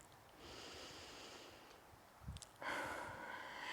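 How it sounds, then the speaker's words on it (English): Slow breathing in and out through the nose during a calm yoga flow: a soft, airy hiss swelling and fading, then a stronger exhale near the end, faint and close in a quiet room. "inhaling through the nose, exhaling through the nose. We'll take 3 rounds of breath."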